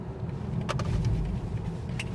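A BMW 320i accelerates on the road, its engine rising as a low, steady drone heard from inside the cabin, moderately quiet with a few light clicks and rattles.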